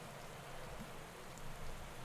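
Rain falling on a soaked road during a bike race in the video game Pro Cycling Manager 2015, a steady, even hiss of rainfall that fills the whole stretch with only slight swells and no voices.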